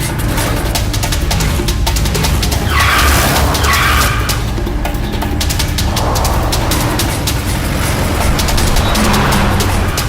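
Cartoon car chase with a revving engine and tyres skidding and squealing loudly, several screeching bursts over a continuous roar of motor noise for about ten seconds.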